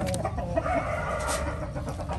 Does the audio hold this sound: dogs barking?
no